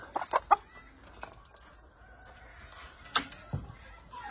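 A rooster gives several short, close clucks in a quick cluster, then quiet, followed by another sharp cluck and a low grunting call.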